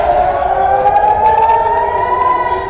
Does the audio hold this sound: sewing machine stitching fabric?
no